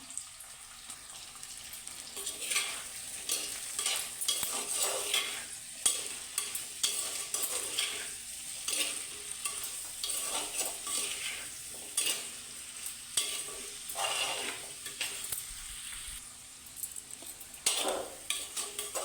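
Prawns sauté in a pan for chemmeen theeyal, with garlic and tomato, sizzling steadily while a spoon stirs and scrapes in repeated strokes, close and moderately loud, no voices.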